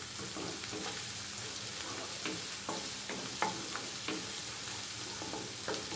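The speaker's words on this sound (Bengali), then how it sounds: "এখন এগুলো নেড়ে চেড়ে আবার একটু ব্রাউন কালার করে ভেজে নেব।" Onions frying in a pan with ginger and garlic paste, stirred steadily. A constant close sizzle carries irregular scraping and tapping strokes of the spoon and no voices, during preparation of a bele fish curry.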